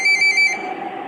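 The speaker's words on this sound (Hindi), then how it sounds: "फोन बजा, जो लगातार बजता ही रहा" A phone ringtone rings with a bright, pulsing electronic tone that repeats in quick bursts, loud and close, then tails off, with no voices.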